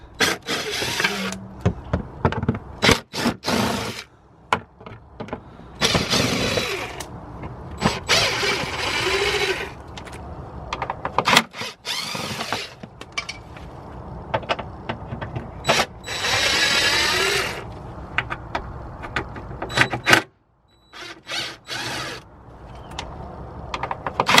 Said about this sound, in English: we'll go ahead and start removing the 8mm screws first